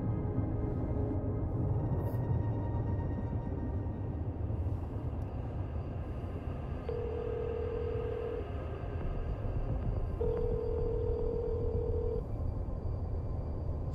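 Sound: telephone ringing in Late Shift video game

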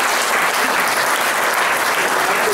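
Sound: applause

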